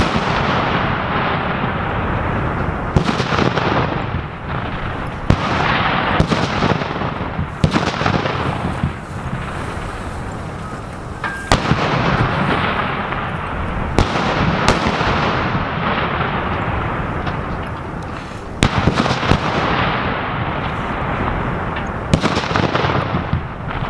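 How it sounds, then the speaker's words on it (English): HIMARS launcher live-firing reduced range practice rockets during a military exercise, heard as a series of loud, sharp blasts and roaring launches, one after another over a continuous rumbling background. "Completion of the brief at around 1325, the live firing will begin."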